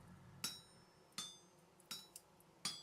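An iron hammer rings out in a video game workshop, four evenly spaced metallic strikes with bright clangs and short decaying tails over a quiet backdrop.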